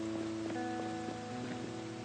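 Steady, soft rain hiss falls continuously in the zombie survival game Project Zomboid, a faint even wash with no talk over it.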